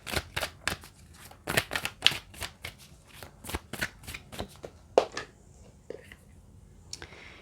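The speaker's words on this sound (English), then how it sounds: "Let's get 3 cards." Tarot-style cards being shuffled during a spiritual card reading, heard as a quick series of sharp riffling bursts with short pauses between them and a faint whisper in places.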